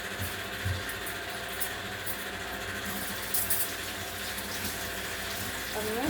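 Water runs steadily from a kitchen tap into the sink as items are washed, a continuous close splash with faint clinks of dishes beneath it.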